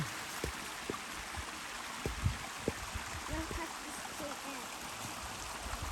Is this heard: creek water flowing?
yes